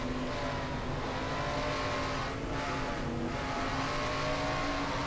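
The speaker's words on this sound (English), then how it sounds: "you hear how many times you have to play with the throttle just a little bit going through the turns here at Wilkesboro" A stock car in a racing video game laps the Wilkesboro track, its engine a steady, buzzing drone. Two brief throttle lifts break it midway, and the engine runs alone with no talk.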